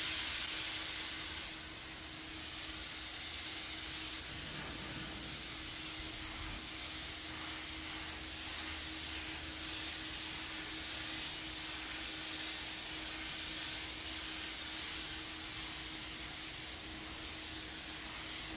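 A big paint spray gun lays down a white pearl base coat on a Tesla Model 3 quarter panel and bumper. The hiss is steady and continuous, with faint bursts that swell and fade, heard close and alone with a low steady hum beneath.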